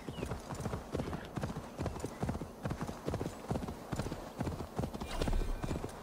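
Steady clip-clop of horse hooves trotting along in Assassin's Creed Valhalla, close and clear, with a faint whinny and some background game ambience.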